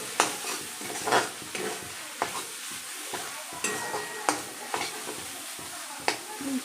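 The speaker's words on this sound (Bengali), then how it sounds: "আমি দিয়ে দিচ্ছি একটু চিনি তো এবার আমি মিশিয়ে নেব মিশিয়ে নিলে কিন্তু শাকটা আমার পুরো রেডি হয়ে যাবে" A pan of sautéed greens with sugar is stirred, with repeated scraping strokes at an uneven rhythm over a soft background sizzle, close and moderately loud.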